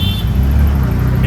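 A brand-new auto rickshaw drives along with a steady low engine drone and road rumble, loud and close throughout, with no voices over it.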